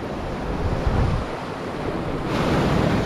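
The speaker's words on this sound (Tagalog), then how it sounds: "Yun, grabe yung agos." Strong sea current and waves rushing at the shore, a loud, steady broadband wash of surf with wind buffeting the microphone and a surge building toward the end.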